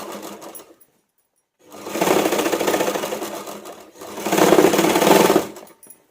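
A sewing machine stitches a blouse collar piece at the neck in two loud, steady runs of about two seconds each, separated by a short pause, close up and with no talking.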